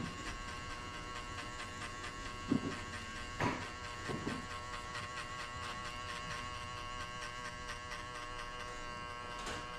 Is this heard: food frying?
no